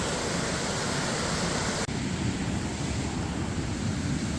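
Loud, steady rushing of a stream close by near the Creissels waterfall after a flood, a broad continuous roar with no talking over it.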